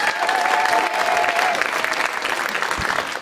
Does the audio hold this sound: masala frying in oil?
no